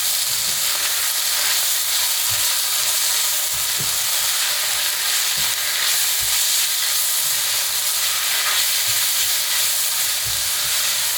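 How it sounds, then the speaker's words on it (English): Onions and garlic fry in a pan for a mushroom bhuna curry, a steady loud sizzle with occasional soft scrapes of a spoon stirring, no voices. "Give that a stir."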